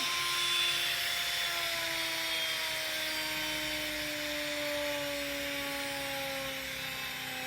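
A 775 DC motor run on 24 volts whines at about 20,800 RPM, a steady high-pitched hum with a slowly drifting pitch and a faint airy hiss.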